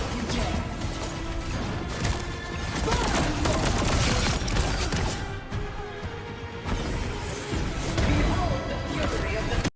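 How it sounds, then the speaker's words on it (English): Video game explosions in a Phoenix match burst in a dense, continuous barrage of loud crashes and gunfire-like blasts, with a voice talking over the chaos. "That wasn't the ult, that was just explosions"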